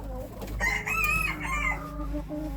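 Cochin chickens clucking and crowing close by, with a drawn-out call in the middle over a low steady background hum.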